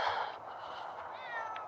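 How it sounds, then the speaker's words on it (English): A cat meows repeatedly at close range, a clear, drawn-out call rising and falling, standing alone without any talking over it. "There's a cat."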